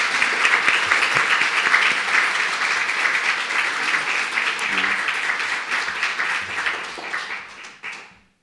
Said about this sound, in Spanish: Eso se merece un aplauso para Dios.